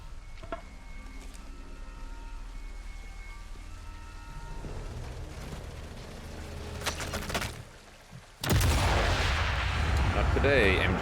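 Heavy MG42 machine gun fire in Sniper Elite 5, a dense roaring barrage that builds and then cuts in loud and close after a short dip, with faint game sounds beneath.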